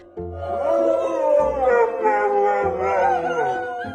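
A dog howls loudly and close, long wavering cries rising and falling, with a second howl joining in partway through.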